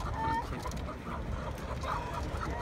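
Dense, busy clucking from many chickens at once at a poultry market in Taşköprü, Kastamonu, Turkey, a steady crowded poultry chatter with occasional higher calls, fairly close and continuous.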